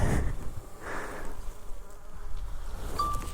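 A steady high-pitched buzz of a DJI Mavic 2 Pro quadcopter drone hovering nearby, droning on without pause under faint background noise.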